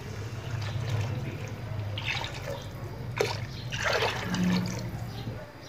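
A mixture of yogurt and gram flour is poured into fried spice masala for kadhi, making wet trickling and splashing sounds over a low background hum, close and moderately loud.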